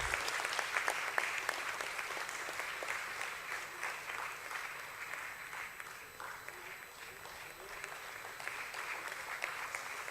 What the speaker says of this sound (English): I want the loudest applause for this lady, Ms. Jayashree Rajesh